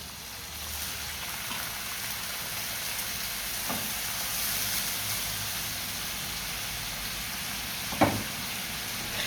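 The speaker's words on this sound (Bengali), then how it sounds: "এদিকে পেঁয়াজটা ভাজা হয়ে গেছে। এখানে কাঁচা মরিচ আর হালকা একটু মশলা দিয়ে দেবো।" Onion, green chilli and a little spice fry in a pan with a continuous soft hiss, faint and steady, broken by a couple of brief louder ticks or clinks.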